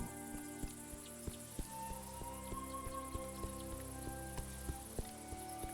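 Crickets chirp in a game's nighttime grassland scene, a steady faint insect trill with soft repeated clicks over low ambient music.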